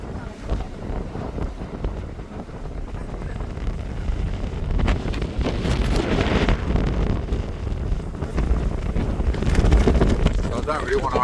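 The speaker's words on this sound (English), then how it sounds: "It's bloody windy." Strong wind at Cape Soya, Japan, buffets the microphone with roaring gusts that swell and subside, heavy rumbling noise throughout, with a voice partly buried underneath.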